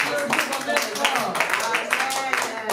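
A church congregation claps together in scattered, uneven applause, a run of sharp hand claps spread through the room with voices murmuring underneath.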